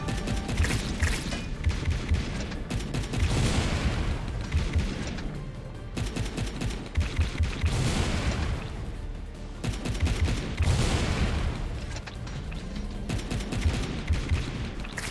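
Rapid gunfire from the weapons in the video game Wall World, loud and nearly continuous, with dense volleys of shots and mechanical clatter repeating in waves across the whole stretch.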